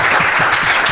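A school quiz competition audience gives a short burst of dense, steady clapping, loud and close.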